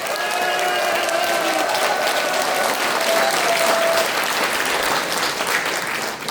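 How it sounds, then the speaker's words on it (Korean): Loud, sustained crowd applause at a Korean phone launch event for the cooper3, dense clapping from a large audience continuing evenly throughout, with faint tonal sounds underneath early on. "큰 박수로 모시겠습니다"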